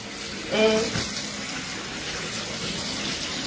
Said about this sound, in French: Pour que je lave jusqu'à ce que l'eau soit claire